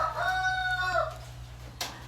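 A fighting rooster crows once in a long, drawn-out call at close range over a steady low hum, followed by a brief sharp rustle.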